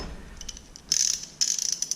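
A ratchet tightens a 7/16 caster bolt on a Gladiator GAGB28FDYG cabinet, producing close, rapid clicking in two bursts of pawl ticks separated by a short pause.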